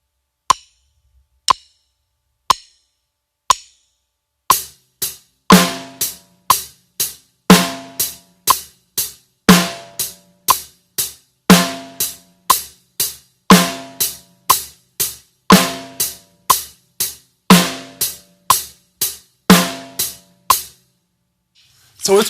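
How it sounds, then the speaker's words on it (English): A drum kit plays a beginner beat: a few lone count-in clicks, then steady hi-hat ticks with a sharper snare hit on beats two and four. The groove is even, close and fairly loud for about twenty seconds. "So when you say 2, you hit the snare drum, and when you say 4, you hit the snare drum. And that would sound like this."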